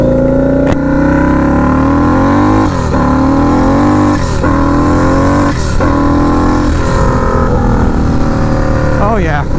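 A turbocharged Harley-Davidson V-Rod motorcycle roars loudly up close through repeated hard accelerations, the engine note climbing and dropping with each gear change, with brief whooshing bursts between pulls.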